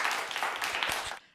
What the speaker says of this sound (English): I'm going to put in round of applause sound effect right here.